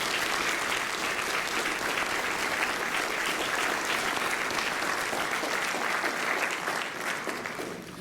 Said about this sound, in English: Please give them all a well-deserved round of applause.